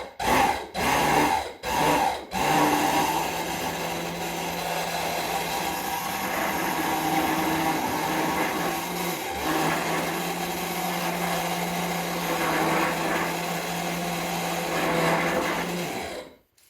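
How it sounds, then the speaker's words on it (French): An electric hand mixer whips chocolate mousse in a steady, loud whirring drone that runs unbroken for most of the stretch after a few short start-up bursts, close by and without talk. "Je peux maintenant incliner mon batteur à 45."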